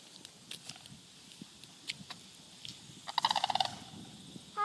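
Turkeys gobble in a quick rattling burst partway through, moderately close over an outdoor neighborhood background of scattered clicks and thumps.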